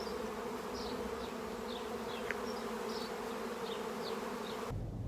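A swarm of honey bees settling on a pine tree gives a constant droning buzz outdoors, with individual bees whizzing past now and then over a steady low hum.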